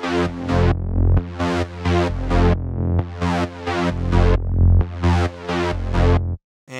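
Two layered trance bass synths, both playing F, pulse in an offset rhythm, making a loud, buzzy, choppy pattern of repeated notes that stops abruptly near the end.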